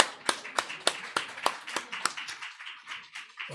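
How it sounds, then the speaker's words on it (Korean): A church congregation at a Sunday worship service claps in thanks, sharp scattered hand claps ringing out in a fairly quick rhythm before tapering off into quieter, sparser claps. "우리 하나님께 감사 박수 드리게 되고"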